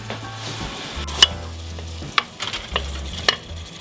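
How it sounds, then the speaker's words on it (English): Onions, garlic, leeks and celery frying in a pan give a steady sizzle, with occasional utensil clinks and stirring knocks and a low background hum. "then we can add the onions, the garlic, now we're going to add the leeks in and the celery."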